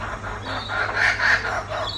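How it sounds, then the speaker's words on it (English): Birds, tagged as chickens or fowl, call loudly and repeatedly outdoors in Ayr, Australia, with rising clucking bursts in an irregular rhythm, nearby and without talk. "Oh wow, they're going crazy. The birds over there."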